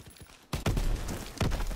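Light machine gun firing in a WW2 shooter game, a close, loud burst of rapid shots starting abruptly after a quiet moment, with sharp reports punctuating the stream.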